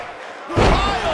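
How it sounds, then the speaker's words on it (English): A heavy piledriver slam lands in the WWE 2K19 wrestling game, one loud thudding impact that swells into a roaring crowd rumble, with no voices over it. "Pile driver. Spiked him."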